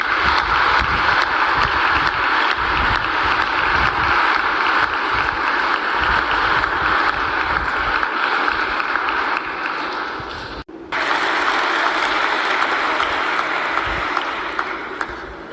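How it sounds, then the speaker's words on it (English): Graduation ceremony audience clapping and cheering, a steady dense wash of applause filling the hall, briefly dipping then resuming at full strength. "let's give a round of applause and a massive cheer to say thank you to all your supporters"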